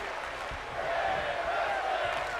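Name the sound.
crowd chanting in WWE 2K23 video game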